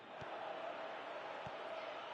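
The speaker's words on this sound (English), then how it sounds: "you can feel and hear how the crowd are reacting to all of this" A stadium crowd roars in a PS4 football video game, a steady broad wash of noise with two faint thumps.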